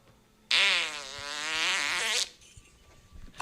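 A single drawn-out buzzy fart noise plays as a sound effect, loud and close, with a rippling, wavering pitch that lasts under two seconds before it cuts off.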